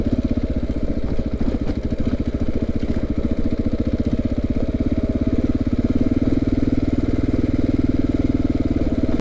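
A KTM 690 motorcycle engine chugs at low speed, a loud, close, steady rapid thumping pulse that holds even from start to finish, with no voices.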